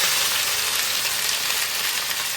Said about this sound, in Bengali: আগে একটুখানি তেলের মধ্যে ভাজা ভাজা করে নিই